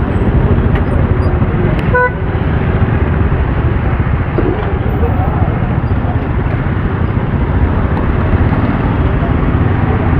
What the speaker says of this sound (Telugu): ఎందుకు ఇంత జామ్ ఉంది ఇక్కడ అన్నది ఈ టైంలో